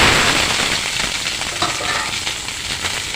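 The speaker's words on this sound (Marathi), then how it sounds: "तेल गरम झालेलं आहे गॅसची फ्लेम फास्टच आहे आता मी शिमला मिरची जी चौकणी आकाराच्या जे कट केलेले ते मी घालत आहे" Square-cut capsicum pieces drop into hot oil over a high gas flame and sizzle loudly and continuously, a dense close crackling hiss that fades slightly over a few seconds, with no voices.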